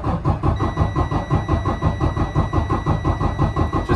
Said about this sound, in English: I'm gonna crank this thing over until the computer says otherwise.